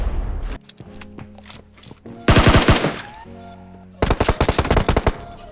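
Automatic gunfire in an online shooter video game crackles in two loud rapid bursts, separated by quieter stretches of game ambience and soft footsteps.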